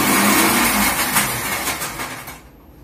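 A motorized whirring hum runs steadily, then fades out near the end, like a mixer grinder blending cold coffee switched off after a short run.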